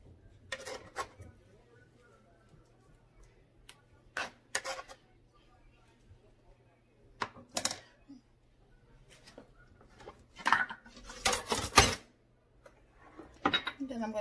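Spoon stirring topping into homemade strawberry banana ice cream, producing sporadic scrapes and clinks against the container in short bursts separated by near silence, close to the mic.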